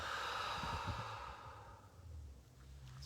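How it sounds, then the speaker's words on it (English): A slow, soft exhale of breath, airy and close during a guided breathing exercise, fading away over a few seconds into quiet. "Slowly breathe out."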